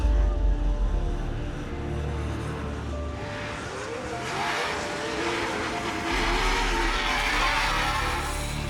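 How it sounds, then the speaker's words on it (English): Off-road race trucks run practice laps on a dirt track, a steady broadband engine roar that swells and fades as vehicles pass at a moderate distance. "Andrew and the other racers are only allowed a couple of laps on the track before they have to qualify for Saturday's race."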